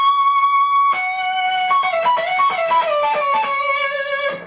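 A recorded excerpt from a song, section D: a sustained distorted electric guitar note gives way to a fast melodic guitar run over chords, loud and continuous, with no voice.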